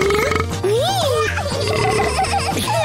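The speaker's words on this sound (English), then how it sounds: "it's not a competition to see who can burp the loudest" Cartoon kids burp loudly in a restaurant scene, several drawn-out belches mixed with giggling and childish voices over background music.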